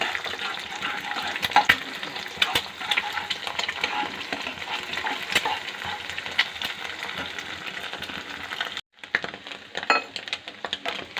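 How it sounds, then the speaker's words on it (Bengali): An egg frying in oil in a wok gives a steady, moderate sizzle with crackling pops and occasional clinks of a utensil, briefly cutting out near the end before resuming. "দিয়ে আমি ডিমটাকে একটু ভেজে নেব।"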